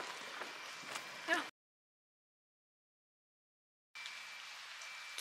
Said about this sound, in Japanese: うわ、雨が降っているんだ。